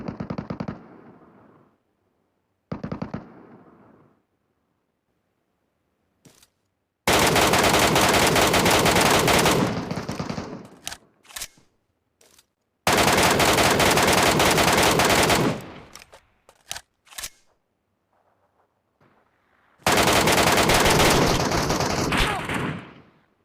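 Gunfire in the video game PUBG Metro Royale: several short bursts, then three long, loud sustained automatic volleys separated by quieter gaps with scattered single shots.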